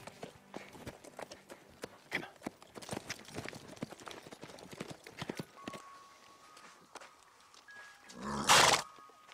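Horse hooves clip-clop in a quick, irregular rhythm, close and fairly loud, with a brief burst of louder noise near the end.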